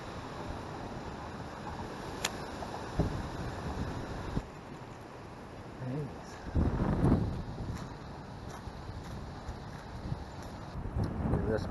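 Strong wind on a lake during a windy fall day of bass fishing from a boat, gusting and buffeting the microphone in uneven surges, with water and boat noise beneath and a person speaking at times.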